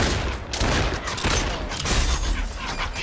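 Loud, dense gunfire in the VR shooter Population One, with rapid shots and impacts blending into a continuous roar close up, and no talk over it.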